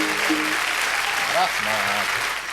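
Applause from an audience fills the clip as a steady wash of clapping, with singing or musical voices carrying over it.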